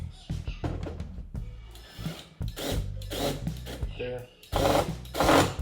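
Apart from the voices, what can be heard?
power drill driving screws into dishwasher corners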